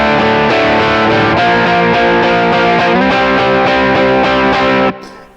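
Electric guitar hammering out the three chords of a song with heavy distortion, a dense loud wall of sustained strummed chords changing in steady rhythm, ending abruptly near the close with a brief decay.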